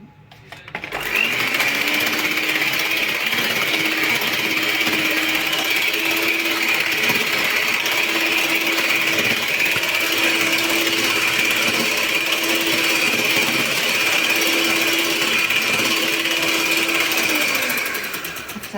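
An electric mixer beats vanilla cake batter while eggs are added, giving a loud, steady motor whir with a rhythmic pulsing buzz that runs close and continuous for about sixteen seconds before stopping, with no talking.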